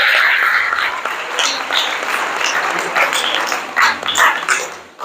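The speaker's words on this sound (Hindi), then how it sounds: "खुदावंद यीशु मसीह के लिए जोरदार तालियां हो जाएं" Loud, sustained applause from a church congregation during a Hindi-language worship service, with cheering voices mixed into the dense clapping throughout.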